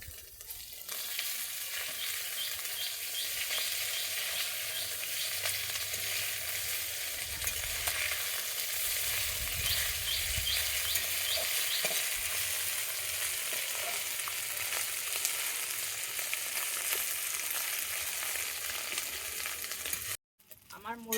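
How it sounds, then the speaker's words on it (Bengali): Small mourola fish frying in oil after being turned over, a steady close sizzle with stirring and spatula scrapes for about twenty seconds before cutting off abruptly. "আমার মূল্যা মাছটা এক পাশ ভাজা হয়ে গেছে আমি এবারে উল্টে দিচ্ছি"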